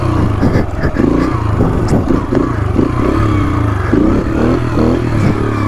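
A small, low-torque motorcycle revs hard during a seat wheelie attempt, its engine loud and close with repeated surging pulls and clattering, one continuous buzzing drone throughout.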